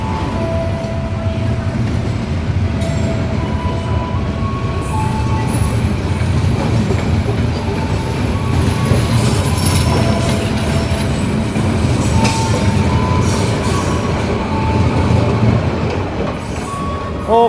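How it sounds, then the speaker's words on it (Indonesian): Pandalungan passenger train pulling out of Probolinggo station, with a steady loud rumble of wheels and carriages, rail squeals and faint clatter throughout, no talking. "ini dia kereta api Pandalungan berangkat Probolinggo melanjutkan perjalanan ke tujuan akhir stasiun Jember"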